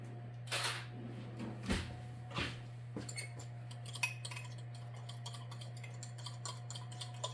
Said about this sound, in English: I'm going to mix that up with a fork